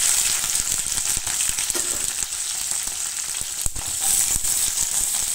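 Chopped onions frying in two tablespoons of oil in a kadai for restaurant-style chilli prawns: a dense, bright, continuous sizzle with small crackles and pops, close up, with no talking.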